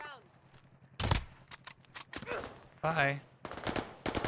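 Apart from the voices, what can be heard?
gunfire from the XM4 rifle in Call of Duty video game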